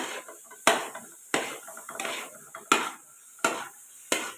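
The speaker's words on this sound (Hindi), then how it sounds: "इस तरह चम्मच चलाते हुए आपने इसकी बुनाई करनी है।" A spoon stirring carrot and cheese halwa in a pan, with about six regular, close scraping strokes against the metal, each landing with a clear knock and fading between strokes.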